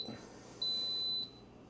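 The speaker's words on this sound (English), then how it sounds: "Well, it's beeping." A single electronic beep from a multicooker, high and steady, holds for about half a second in a quiet room.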